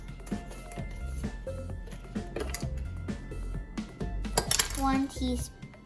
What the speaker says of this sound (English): So we mixed up our pumpkin spice.